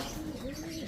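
Racing pigeons in a loft give soft, low throaty coos with a gentle rising and falling pitch, close by and steady against a faint background hum.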